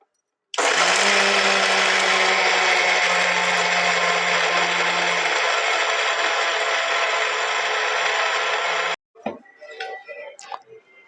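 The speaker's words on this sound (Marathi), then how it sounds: "जरा मिक्सरला बारीक करूया" An electric mixer grinder pulverizes rock sugar in a loud, steady whirring roar for about eight seconds before cutting off abruptly, followed by faint clattering.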